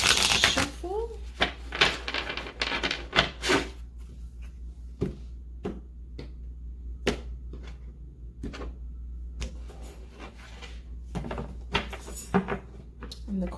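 Tarot cards shuffled by hand, a series of sharp riffling snaps and soft slaps at an uneven pace, close and fairly quiet, with a voice murmuring in the background.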